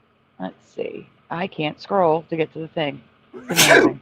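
A single sharp, loud sneeze bursts out near the end, following a few seconds of someone talking.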